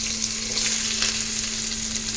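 Onions fry in hot oil in a cooking pot, giving a loud, even, close sizzle with a low steady hum beneath and no voices.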